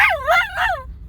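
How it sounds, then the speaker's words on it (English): An excited dog whines and yips in a quick rising-and-falling wail, two or three eager cries packed into about a second, close and loud, with no talking over it. "Finnegan, the dog, expressing his vocal joy at the fact that we are going to the beach."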